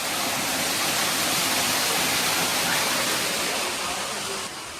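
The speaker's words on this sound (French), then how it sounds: "Il y a littéralement une cascade." A waterfall near a house and garden roars as a dense, steady broadband rush, loud and close, unbroken until it dips slightly at the very end.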